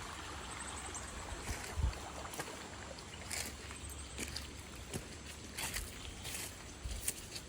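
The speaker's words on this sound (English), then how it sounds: "they have this creek right here" A creek runs beside a hiking trail on a fall day, giving a steady broadband wash of flowing water with a few faint thumps and rustles that could be footsteps, heard alone with no talking.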